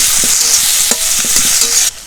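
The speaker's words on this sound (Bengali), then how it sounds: "ভালো করে ভেজে নেব পেঁয়াজের সাথে।" Onions, chopped tomatoes, bay leaves and whole garam masala frying together in a pan, a steady sizzle under repeated scrapes and clinks of a stirring spoon, close and fairly loud, with no talking.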